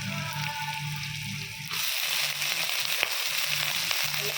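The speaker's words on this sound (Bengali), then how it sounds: "আলু ছাড়া কুন্দি ভাজবো।" Thin-sliced ivy gourd with onion fries in a pan without potatoes, giving a steady close sizzle that jumps louder partway through, with a low background hum in the first part.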